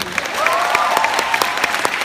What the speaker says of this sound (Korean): 어린 줄리아 역의 김민솔, 김수아, 김주리, 주만, 조에게도 박수 부탁드립니다